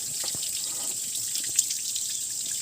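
Water running from a tap into a container during a child's car wash, a steady hissy trickle with a few faint drips, soft and continuous, with no talking.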